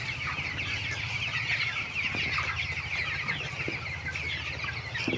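Broiler chickens cluck steadily in a poultry shed, a dense continuous flock murmur with occasional sharper clucks and a low mechanical hum underneath, no talking.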